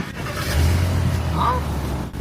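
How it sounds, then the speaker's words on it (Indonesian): A Jeep Grand Cherokee's V8 engine runs close by with a low, steady rumble that swells briefly and then settles, joined by faint background noises. "Ini mesin V8, penggerak semua roda."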